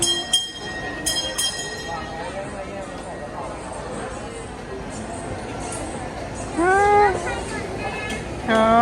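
A train pulls away from a station with a low rumble and clatter, while people talk excitedly close by over it, and a few brief tonal squeals sound near the end.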